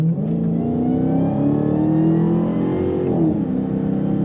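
The engine of a 2022 Dodge Challenger SRT Hellcat Redeye with an automatic gearbox revs loud and close, a steady throaty roar that climbs and holds before easing off near the end.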